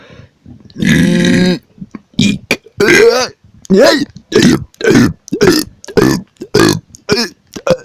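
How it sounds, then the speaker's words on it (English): A man lets out a run of loud, close burps: one long drawn-out belch followed by a rapid series of shorter, choppy burps in quick succession, with no other sound between them. "Sorry for the mini burp attack in the middle of the video."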